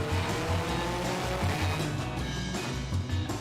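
A go-kart engine revs in steady bursts at a race, rising and falling repeatedly, loud and close, with other kart engines droning underneath.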